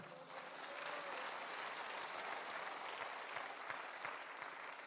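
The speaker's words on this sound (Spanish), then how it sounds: "Dale palmas a Cristo." A church congregation claps hands together in a sustained, even wash of applause, heard from a distance without talking.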